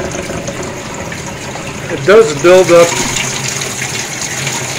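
Water sprays steadily from the quarter-inch nozzle holes of a homemade rotating flow turbine, a continuous gushing hiss under a man's close-up voice.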